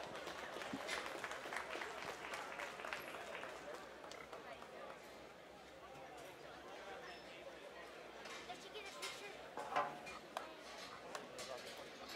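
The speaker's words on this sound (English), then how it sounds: "Let's give all those kids a round of applause" Spectators applaud the young exhibitors after a class at a junior gilt pig show, scattered clapping mixed with crowd chatter and murmuring in a large show ring.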